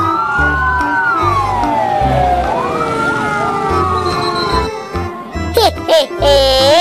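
A toy fire truck plays a wailing electronic siren that rises and falls continuously, with a rhythmic low pulse beneath and brief chirpy sounds near the end.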